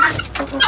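A few short clucks from chickens close by, quick and choppy, with no talk.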